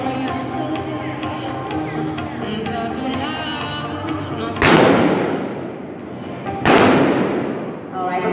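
Cowboy mounted shooting with pistol and shotgun at an arena event: two loud, sharp gunshots boom out a couple of seconds apart, each trailing off in a long echo, while an announcer talks over a background of crowd noise.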